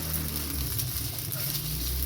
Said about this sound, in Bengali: এবার আমি সোয়াবিনগুলো এর মধ্যে ভেজে নেব